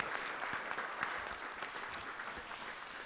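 Steady applause from an audience at an awards show honoring winners and panelists, a dense continuous clapping that stays even and fairly distant throughout.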